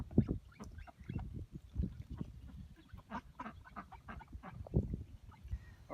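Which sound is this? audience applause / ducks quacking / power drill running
ducks quacking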